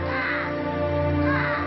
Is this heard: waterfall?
no